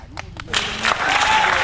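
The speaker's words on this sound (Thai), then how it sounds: "ขอเสียงปรบมือด้วยนะครับ" A few sharp claps lead into a burst of applause at a school donation announcement that builds and continues, with a voice speaking briefly at the start.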